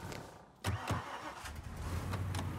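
A car engine in the video game Mafia Definitive Edition cranks and catches at around half a second, then settles into a steady, fairly loud idle for the rest of the clip, with no talking over it.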